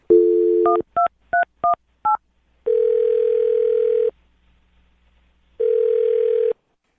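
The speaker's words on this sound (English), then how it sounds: "I'm dialing the phone number." A series of short touch-tone beeps dials a number in quick succession, followed by two long, steady ringback tones separated by silence.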